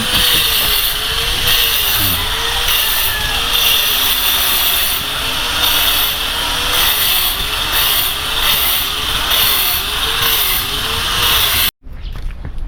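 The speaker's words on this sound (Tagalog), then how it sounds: "Grinder." A grinder runs continuously with a loud, close, high whine whose pitch wavers steadily up and down, then cuts off abruptly near the end.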